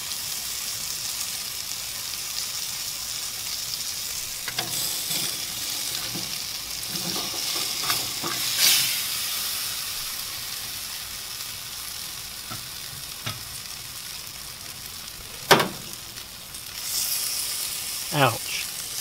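Grouper pieces sizzle on a hot Himalayan salt block, a continuous bright hiss with occasional pops and a few sharp knocks, with people talking now and then over it.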